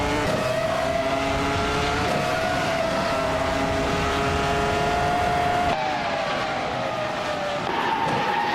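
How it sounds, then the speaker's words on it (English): Race cars launch off the line in a racing video game at the Bernese Alps Festival track, a 1996 McLaren MP411 among them: loud, continuous high engine whine with shifting pitch and squealing tires, no talk. "the race kicks off at the stunning Bernese Alps Festival track"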